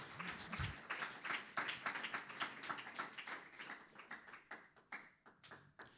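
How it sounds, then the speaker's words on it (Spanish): A church congregation at an evangelistic campaign breaks into applause, a steady run of fairly faint, rhythmic clapping from a modest crowd that thins out toward the end. "Dele un aplauso que Él vive para siempre"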